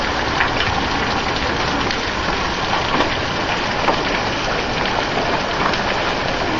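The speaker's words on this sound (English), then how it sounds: "See the hail streaming off the roof." Hailstones up to penny size pelt a roof and stream off it in a dense, steady hiss during a spring hailstorm, continuous and loud with no pauses.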